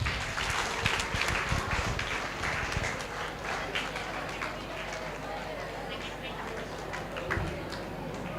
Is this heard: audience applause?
yes